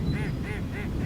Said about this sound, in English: The duck.